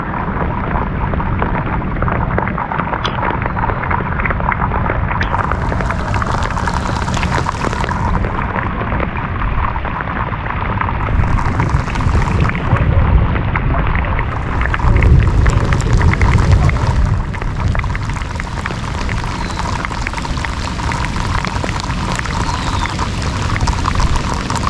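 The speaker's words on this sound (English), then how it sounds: "It's like raining hard." Heavy rain pours onto open water around a paddleboard in a sudden storm. The hiss is dense and continuous, loud and close, with steady broadband wash throughout and no voices.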